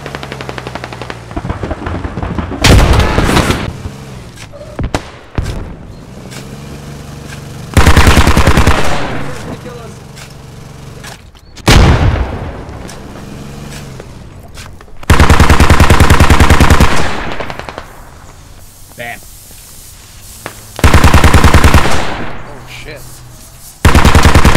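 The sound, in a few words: BTR vehicle gunfire in the video game Squad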